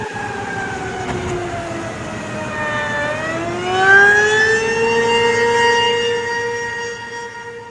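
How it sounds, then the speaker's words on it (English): Civil defense tornado sirens sound in Larned, Kansas, their long wailing tones rising and falling and overlapping, loud and steady through the whole stretch with no talking. "good on the city of Larned for getting their sirens going. That is always good to hear."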